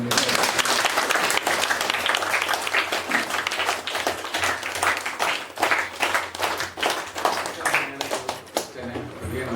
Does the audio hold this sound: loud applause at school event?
yes